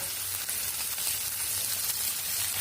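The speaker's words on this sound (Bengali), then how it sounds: "এখন দিয়ে দেবো কিছু পেঁয়াজ কুচি, রসুন, এগুলাকে আমি একটু ভেজে নেব।" Chopped onion and garlic fry in hot oil, giving a steady, dense sizzle with a faint crackle throughout, close-up and even in level, with no talking.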